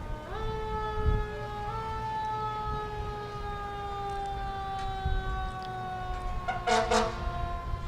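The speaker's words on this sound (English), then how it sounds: "New Waverly knows how to play a tune on their siren." A fire engine siren plays a rising, stepped melody of sustained tones, with a brief burst of higher warbling notes near the end over low engine rumble, during a parade.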